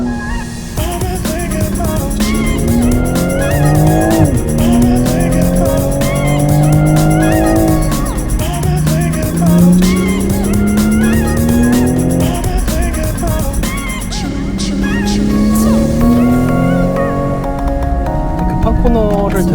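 A Toyota GR Supra accelerates out of a corner, its engine loud and close, rising through repeated swelling pitch sweeps as gears change. Someone talks over the engine throughout.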